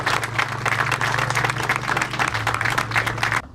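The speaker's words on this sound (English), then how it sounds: "So just a round of applause for them." Applause from a crowd at an outdoor car show, steady dense clapping for about three and a half seconds that then stops abruptly, with a low hum running underneath.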